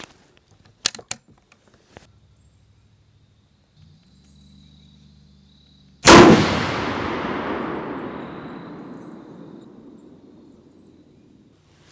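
A single loud, close rifle shot from a Ruger No. 1A in .303 British during load testing, a sharp blast at mid-clip trailing into a long decaying echo, after faint handling clicks.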